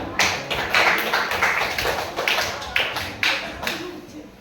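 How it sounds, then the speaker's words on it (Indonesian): A group claps rhythmically in a classroom during a presentation on public service ads, with a steady run of fairly loud hand claps and voices mixed in. "oke, tepuk tangan"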